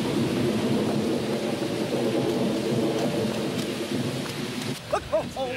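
Rain pours steadily with low rumbling thunder underneath, a continuous wash of storm noise that gives way near the end to a few brief higher tones.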